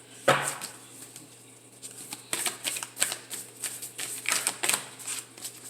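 Tarot cards being shuffled up close, a quick riffle followed by repeated crisp flutters and soft slaps, steady and fairly loud with no talking.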